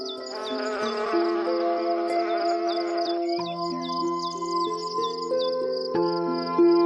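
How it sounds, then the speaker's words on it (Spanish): Bees working almond blossoms for pollen and nectar give a close, steady buzzing hum alongside soft sustained musical tones. "Los almendros están en flor y las abejas se afanan en recoger polen y néctar."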